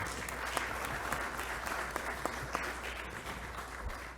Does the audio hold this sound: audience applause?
yes